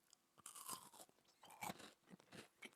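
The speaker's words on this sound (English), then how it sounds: "I don't know how well you can hear me chewing" Close, crunchy chewing of Kit Kat chocolate wafer bars, with repeated bursts of crisp crunching and mouth sounds over about three seconds and no talking.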